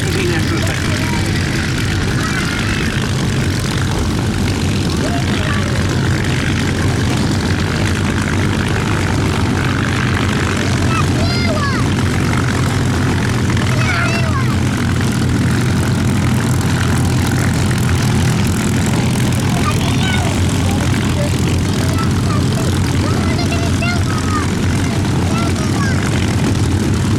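Propeller aircraft, a Beech D-17S biplane at a Battle of Britain airshow at Duxford, drone steadily overhead for the full stretch with a continuous engine roar, while an announcer talks over the public address.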